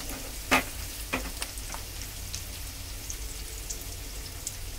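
Red chilies and onion fry in hot oil for a black lentil dal tempering, giving a steady soft crackle with a few louder pops near the start, heard close and with no talk.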